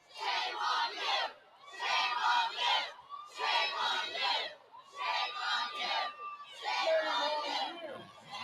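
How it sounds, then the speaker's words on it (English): A parade crowd at a Pride march chants in loud, rhythmic bursts directed at protesters, five repeated shouted phrases with brief pauses between them, many voices together. "if you can hear the crowd chanting, "Shame on you," that's not to Becky Edwards, that's to the protesters."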